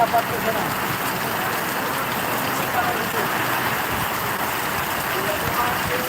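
Steady rain pours down as a broad, even hiss with a constant patter underneath, continuous and fairly close, and someone speaks over it now and then.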